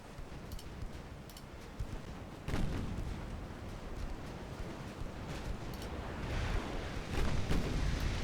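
Heavy naval gunfire from dreadnought-era warships in a French campaign of a strategy game: repeated deep booms and rumbling salvos, loud and sustained, with a particularly strong blast near the middle and more firing toward the end.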